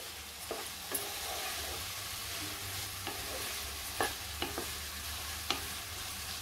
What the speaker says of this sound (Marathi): पायनॅपल तुपावरती परतल्याने त्याचे फ्लेवर रिलीज होतात